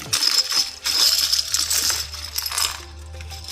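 Oversized Monopoly dice rattle and clatter together as they are shaken by hand, bright clicky knocks in quick bursts, close and fairly loud, with no one talking.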